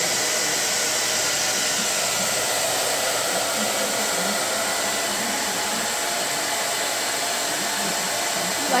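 A hair dryer runs steadily during dog grooming, a loud constant blowing whoosh with no break through the whole stretch.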